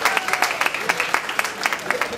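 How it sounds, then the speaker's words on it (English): Audience applause at a cultural night event, scattered hand claps forming a moderate wash with distinct individual claps standing out. "Give yourself a round of applause."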